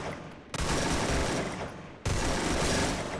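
Rapid automatic gunfire in the shooting game Free Fire, two long loud bursts of fast shots, the second starting after a brief drop in level.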